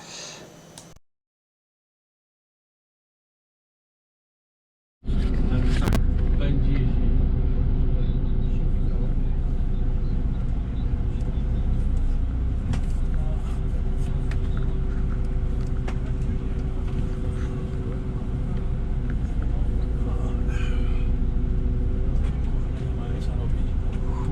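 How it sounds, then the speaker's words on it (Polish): A city bus in Kraków rides toward the main coach station, heard from inside as a steady low engine rumble with faint ticks and rattles, preceded by a brief pause of silence; a voice speaks over it. "jazdę, fascynującą przygodę w autobusie"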